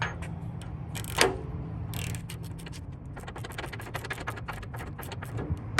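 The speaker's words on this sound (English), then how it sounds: "now we need to grab a big socket and tighten that sucker" Big socket wrench ratcheting a 37mm nylon lock nut tight during a rear bumper install on a Lexus LX470, rapid repeated clicking in bursts over a low steady hum, close and without talk.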